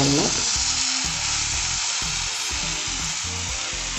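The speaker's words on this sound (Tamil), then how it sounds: "இப்போ இதில் வந்து கண்டென்ஸ்ட் மில்க்கு நம்ம ஒரு 1/2 கப்பு நம்ம இதில் ஊற்றிடணும்" Condensed milk hits butter-fried vermicelli in a hot pan, giving a loud, steady sizzle with rhythmic scraping pulses throughout.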